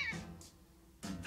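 A cartoon cat lets out two short meows separated by a pause, faint and close, in an animated Smurfs episode.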